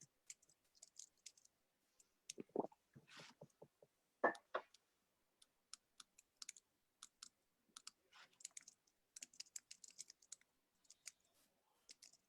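Someone types on a new computer keyboard with scattered, faint clicking keystrokes, sparse at first and then in quicker irregular bursts, heard alone in a quiet room.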